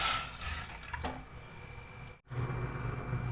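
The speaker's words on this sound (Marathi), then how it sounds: "आता त्यामध्ये टाकायचं 1 ग्लास पाणी" One glass of water poured into a cooking pot holding pomegranate peels for a home cough-and-cold decoction, a steady close splash and trickle that breaks off briefly and then resumes.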